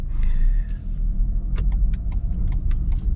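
A 2021 Renault Megane 1.3 is shifted into drive and pulls away at night, its low road rumble steady inside the cabin with a few light clicks and rattles.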